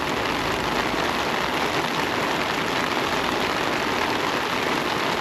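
Torrential rain hammering down in a constant, loud wash of noise, steady throughout with no talking.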